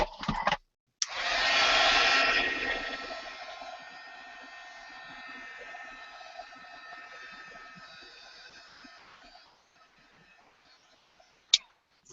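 A hair dryer blows on an art journal page, a loud steady whoosh that starts abruptly, fades to a lower hum over several seconds, then cuts off, ending with a brief click.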